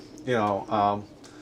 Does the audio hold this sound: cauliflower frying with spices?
no